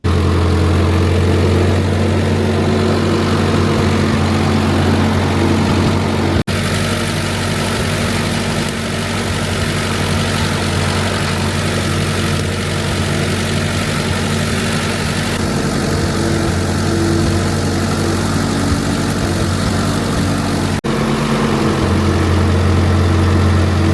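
A Ford 8N tractor engine idles in a steady, rough low rumble, loud and close throughout with a couple of brief clunks, running alone without voices.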